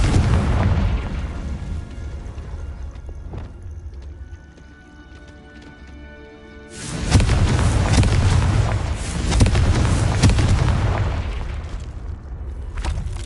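A Confringo spell explosion in the video game Hogwarts Legacy, a loud booming blast that swells to a broad roar and rumbles on for several seconds after a quieter stretch, with no voices.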